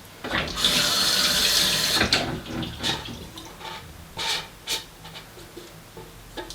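A razor is rinsed under a running water tap: a loud gush of flowing water for about two seconds, then quieter splashes, rubbing and dripping sounds, with no talk.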